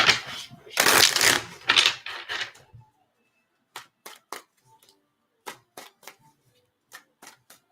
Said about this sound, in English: I'm gonna shuffle that.